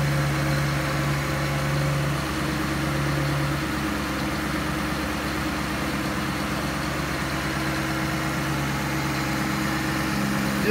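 A 2005 Cadillac XLR's 4.6-liter Northstar V8, from a flood-damaged car, idles steadily and evenly for the whole stretch, a close, constant engine drone with no talk.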